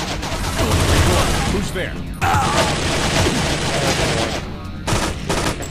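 Rapid turret gunfire in the video game Infernal pounds in loud sustained bursts with a brief pause partway, heavy and close, while a voice speaks briefly over the shooting.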